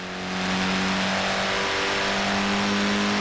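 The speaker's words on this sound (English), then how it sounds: "The Mini Cooper S was built to be a performance machine, with deeper engines, twin carburetors, and front disc brakes." A Mini Cooper S engine in Forza Horizon 4 revs up and holds a loud, steady drone with strong harmonic tones, rising from a brief quiet start into a continuous close-up roar.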